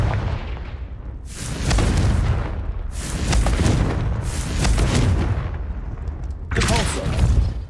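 Blasting-spell explosions in the Hogwarts Legacy video game, several heavy booming bursts in succession, loud and close with rumbling tails between them.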